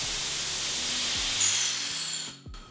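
A homemade supersonic nozzle in a garage fires a loud continuous hissing air jet at a tomato, then cuts off abruptly near the end, close and alone.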